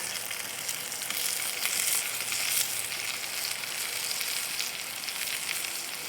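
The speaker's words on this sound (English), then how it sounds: "Let's start stirring this around" Food fries in a pan at a fall campsite, giving a loud, continuous sizzle while it is stirred, with no voices.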